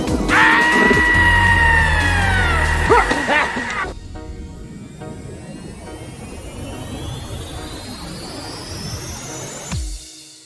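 During a tabletop role-playing game session, a voice imitates a loud, drawn-out wavering scream for about three seconds, then it trails off into a rising whine and a low hum.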